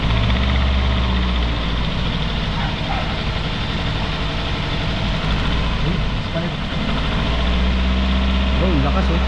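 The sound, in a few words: Toyota Altis engine idling with strong misfire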